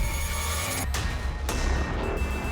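A mobile phone ringtone rings loudly and steadily in bursts of sustained electronic tones, with brief gaps between rings and no talk over it.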